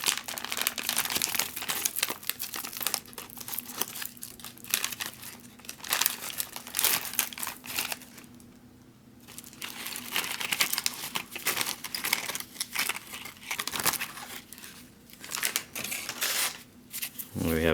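Someone opens a 1964 C-ration accessory pack, tearing and crinkling its paper and plastic wrappers. The close, sharp rustles come in bursts with short pauses.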